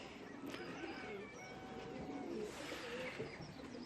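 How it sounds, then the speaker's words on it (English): Pigeons sit in sunny aviaries on an allotment, giving soft, faint coos and calls over a low background hum. "here we have all the pigeons sitting waiting patiently for the breakfasts, sunning themselves in the aviaries"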